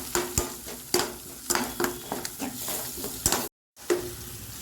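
Onions and ginger-garlic paste sauté in a pan, a steady sizzle broken by repeated scraping stirs and clinks, close and fairly loud, with a brief dropout near the end.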